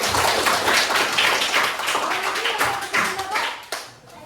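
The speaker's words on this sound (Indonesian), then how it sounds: "tepuk tangan buat kita" Audience clapping fills a classroom or hall, dense and steady for several seconds before thinning out toward the end.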